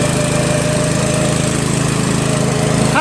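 A lawn tractor repowered with a Briggs 14.5HP flathead engine drives along, its engine a loud, steady, close-up drone with a buzzing mechanical rattle and no pause.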